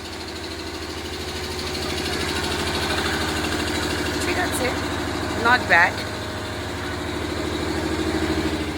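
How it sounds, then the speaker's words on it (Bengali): A generator runs at a beach resort in Tajpur with a steady low mechanical hum and droning harmonics, constant in the background while people talk over it and a few brief clinks sound. "এই আওয়াজটা হচ্ছে জেনারেটরের"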